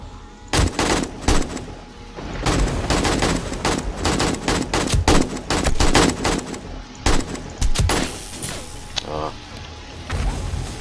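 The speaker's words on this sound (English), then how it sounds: "They detonated another one, didn't they?" Sharp, loud bursts of gunfire and explosive thuds come in irregular clusters during a 7 Days to Die horde night, with brief quiet gaps between volleys; a detonating zombie's blast sits among them.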